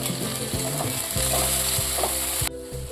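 Green peas sauté in a pan over medium heat, a loud continuous sizzle with rhythmic scraping and clinking of a spatula stirring, and the sizzle dropping off abruptly near the end.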